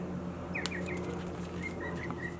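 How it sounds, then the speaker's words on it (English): Small birds chirp faintly in the background in short, scattered high tweets, distant and soft over a steady indoor hum. "Like the birds in the background."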